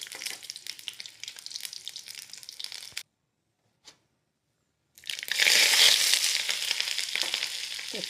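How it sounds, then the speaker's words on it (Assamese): Eggs frying in a hot pan for an egg and potato curry, crackling sizzle with scraping for a few seconds, a break of near silence, then a louder, denser hiss of frying. "কণীকেইটা ভাজি আছোঁ।"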